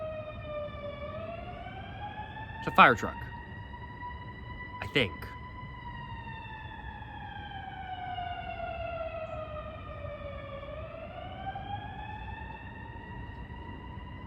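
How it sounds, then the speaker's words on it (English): A distant fire truck siren wails steadily, rising and falling in pitch as it passes with a Doppler shift, while a person talks briefly near the start over the continuous tone. "Is that an ambulance or a fire truck?"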